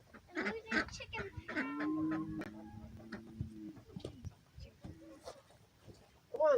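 Chickens on a homestead squawk and cluck loudly near the microphone, with a long drawn-out honking call in the middle and rustling around them.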